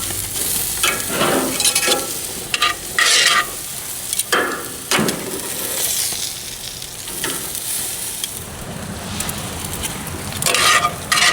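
Sweet potatoes sizzling loudly in a hot pan while a utensil stirs and scrapes them in bursts, a steady frying hiss running underneath throughout, close and prominent.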